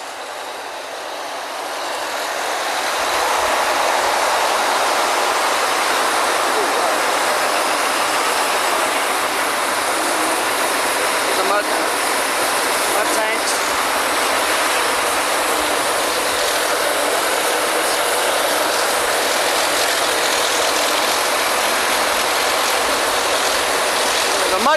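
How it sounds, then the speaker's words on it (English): Mud pumps and mud tanks on an oil well drilling rig run in a loud, continuous broadband roar with a mechanical rattle, close up, while a voice speaks faintly underneath. "Mud pumps pump that mud through that black hose, goes down the center of the Kelly"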